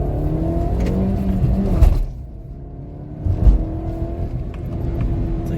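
A Maruti Ciaz Hybrid running on CNG revs its engine in loud, close surges, dropping away briefly and then climbing again with a steady whirring drone.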